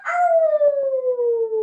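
A voice imitates a dog, producing one sustained howl that slides slowly downward in pitch for over a second, heard alone without other talk.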